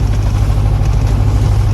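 A sailboat's inboard engine runs steadily at about 1,500 revs, a loud, even low rumble with a continuous throb and no voices.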